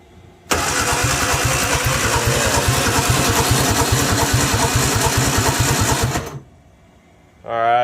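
A 1959 Morris Minor Traveller woody station wagon, a barn find, cranks for about six seconds with good compression. The starter churns rapidly and steadily, close and loud, without catching, then stops. A brief second crank begins at the end.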